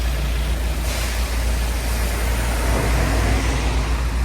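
Loud, steady traffic rumble as cars, a large bus and heavy trucks rev their engines and pull away from a green signal at a Krakow intersection, a continuous roar with no voices.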